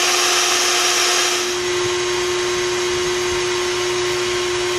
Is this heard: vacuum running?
yes